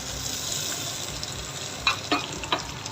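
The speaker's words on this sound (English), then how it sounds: "We'll fry it for just a little while." Browned onions frying in oil with ginger garlic paste for beef biryani, a soft steady sizzle close by, joined near the end by a few sharp spoon clinks against the pot.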